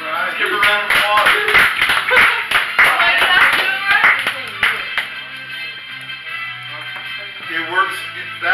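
Clapping from a school audience for a student, a loose burst of hand claps with sharp individual slaps over several seconds that thins out and fades, mixed with some chatter and room noise.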